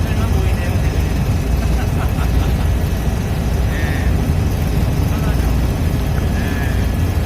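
Helicopter flying over Las Vegas at night, a steady loud rotor and engine drone filling the whole stretch with constant broadband noise, heard from inside the cabin, with no talking.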